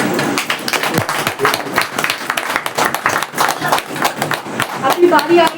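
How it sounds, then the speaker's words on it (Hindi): Audience at a women's day celebration clapping steadily in a dense, continuous burst, with a voice speaking over the applause. "ताली होनी चाहिए।"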